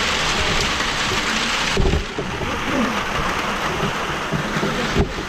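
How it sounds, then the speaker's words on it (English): Rainwater from a greenhouse overflow system pours and runs off steadily, a dense, continuous rushing wash with a couple of brief louder splashes. "that's the overflow system for the inside of the greenhouse coming off the rain up there"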